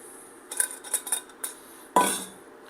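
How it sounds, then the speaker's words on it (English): Broccoli going into a pot of broccoli cheddar soup, heard as a handful of light metallic clinks and taps against the pot, then one brighter clatter, all close and fairly quiet. "now I'm going to add in my broccoli"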